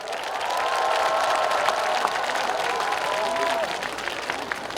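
A large outdoor crowd applauds and cheers at a celebratory concert during a pottery festival, sustained loud clapping with a faint vocal tone drifting over it.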